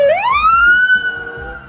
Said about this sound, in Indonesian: Kita menemukan mobil patroli polisi.